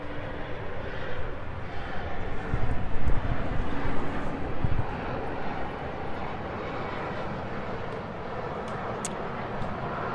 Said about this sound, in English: Oh, it's an aeroplane.